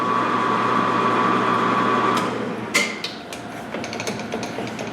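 A carbide lathe tool rubs against metal on a lathe during tailstock locking mechanism work, giving a steady ringing chatter tone that breaks off into irregular metallic scrapes and knocks, close and fairly loud.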